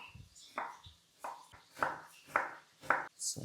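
A knife slices celery root into thin julienne strips on a board, giving about six sharp, evenly spaced cutting strokes, each a crisp chop close by. Quiet talk runs underneath.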